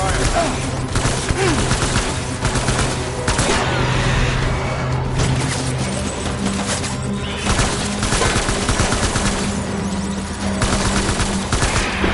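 Dense, continuous gunfire from Death Stranding rattles on in sustained bursts, loud and close, with brief pauses between volleys.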